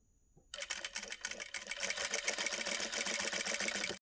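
A sewing machine stitches thread piping on folded cloth, a steady rapid mechanical whir starting after a brief quiet moment and running continuously, close and fairly loud.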